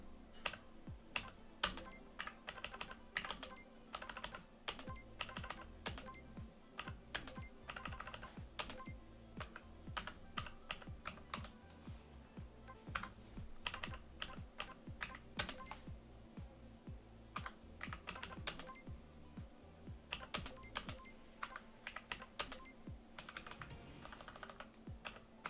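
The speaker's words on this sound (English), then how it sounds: "now I can navigate this with my keyboard." Rapid, irregular keystrokes on a computer keyboard clatter steadily for the whole stretch, close and clear over a faint constant hum, with no talking.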